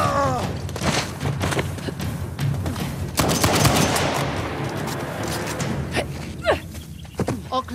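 Gunfire from the video game Uncharted: The Lost Legacy, with repeated loud gunshots and bursts spread across a dense firefight, sharp cracks landing irregularly over a busy background of battle noise.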